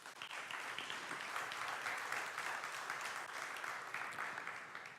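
A church congregation claps together in a continuous, even burst of applause, moderately distant and soft in level, with no speech over it.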